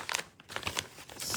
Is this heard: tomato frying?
no